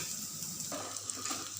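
Sliced onions frying in a pan for a chicken liver and Baguio beans dish, a steady close sizzle with light stirring scrapes, no talking.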